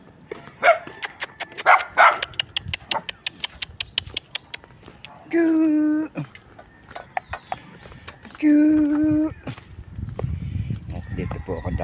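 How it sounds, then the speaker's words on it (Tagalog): A dog barks near a neighbour's house along a slippery path: a run of sharp, repeated barks early on, then two longer drawn-out calls, with people talking over the background. "May aso."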